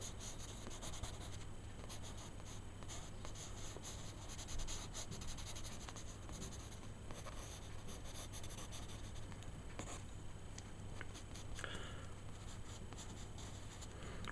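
Pencil lines scratched and rubbed onto paper while sketching a creature with withered, rotten detail; soft, close, continuous scribbling strokes with faint rhythmic scratches and no talk.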